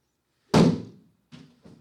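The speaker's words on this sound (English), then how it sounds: "when you hear the sound of the bag being struck" A golf club strikes an impact bag with one loud, dull thump, followed by two much softer taps, close and with no talk.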